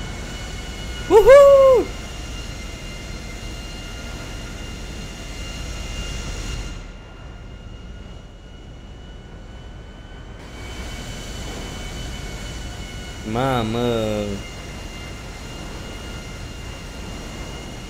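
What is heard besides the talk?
airplane flying in the video game GTA 5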